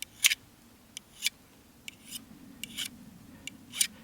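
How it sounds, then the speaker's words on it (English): The metal file of a multi-tool rasps against a nail to sharpen it to a point, heard as short, separate scraping strokes at an uneven pace, close and fairly quiet. "This is where that file comes into play on our multi-tool."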